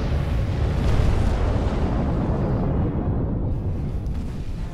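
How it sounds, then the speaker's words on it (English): Capital ship blowing apart in Sins of a Solar Empire: Trinity, a sustained heavy rumbling explosion with dense crackling debris, loud and steady for several seconds before easing slightly. "I think their capital ship is about to explode."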